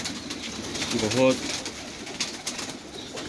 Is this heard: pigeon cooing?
yes